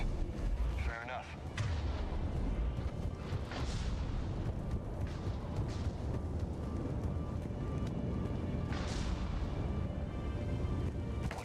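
Heavy gunfire and booming blasts in the Mass Effect 3 video game, dense loud rumbling bursts filling the whole stretch with a few sharper reports standing out, a voice briefly speaking underneath.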